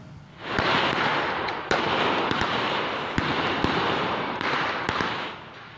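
Police fire gunshots to scatter looters at an industrial park in Morowali: several sharp, loud reports crack at irregular intervals over a constant roaring background noise.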